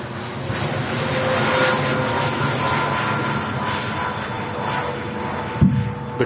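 A TUI Boeing 787-8 airliner at Manchester Airport gives a steady, moderately loud engine roar that holds throughout, with a brief thump near the end.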